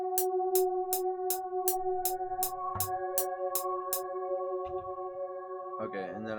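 A Firefly synth lead in FL Studio plays a rapid repeating pulse over sustained harmonic tones, then holds a steady chord before a brief warbling flourish at the end, clear and upfront.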